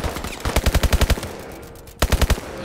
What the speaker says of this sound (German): Ich sehe ihn nicht, aber ich schieße einfach mal.